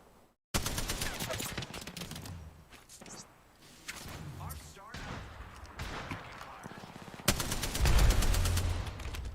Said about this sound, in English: They're trying to shoot from across the way.